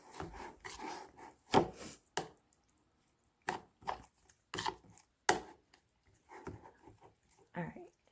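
Keto chaffle batter seasoned with everything bagel seasoning gets stirred in a bowl, heard as a few close, scraping strokes in short bursts separated by quiet pauses.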